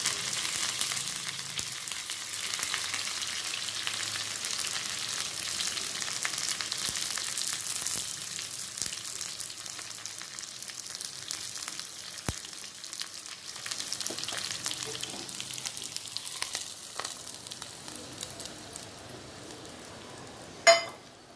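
Onion and curry leaves fry in a pan with a steady, even sizzle and crackle that holds for about twenty seconds. It thins slightly toward the end, where a single sharp knock or clink sounds close by.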